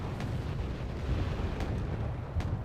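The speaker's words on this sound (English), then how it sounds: "Lots and lots and lots of artillery from both sides." Dense, continuous rumble of mortar and artillery fire in the combat game Wargame: Red Dragon, with booms from both sides overlapping into a steady low roar and a few sharper bursts standing out.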